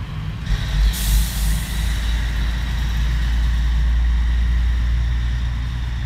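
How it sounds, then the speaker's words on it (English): A truck rolls past with a sharp hiss of air brakes near the start, followed by a loud, steady low engine rumble as it passes close by. "Let's let the truck completely pass by."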